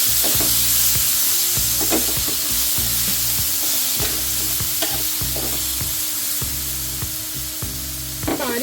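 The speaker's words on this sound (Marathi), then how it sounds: "आता हे मिश्रण सर्व परतून घ्यायचं" Green chillies and a medium tomato are sautéed for a spicy Marathi thecha, a loud close sizzle broken by regular scraping knocks of a spatula stirring the pan.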